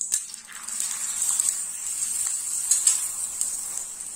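Aloo paratha frying in oil on a pan, a steady bright sizzle close by at moderate loudness with faint scrapes of turning, no talking.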